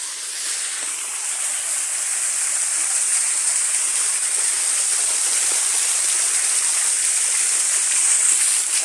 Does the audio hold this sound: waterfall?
yes